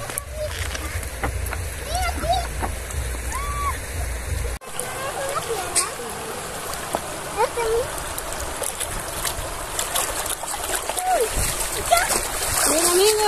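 Water splashes and sloshes in a river as clothes are washed by hand, uneven bursts of nearby splashing over a flowing-water bed, with people talking throughout.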